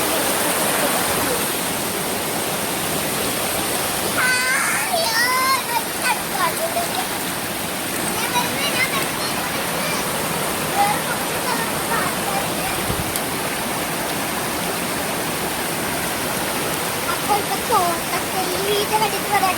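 A stream rushes steadily along a path leading down to it, its broadband hiss of flowing water continuous and fairly loud throughout, while people speak briefly in the middle and toward the end.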